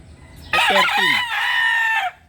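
A single loud rooster crow rings out close by, a rising call followed by a long held note, with quiet background before and after.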